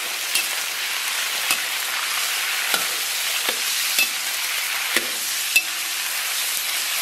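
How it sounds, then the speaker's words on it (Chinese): Blanched beef hits hot lard in a wok and is stir-fried, giving a steady, bright sizzle with occasional sharp scrapes and taps from the spatula. "简单给它煸炒一下"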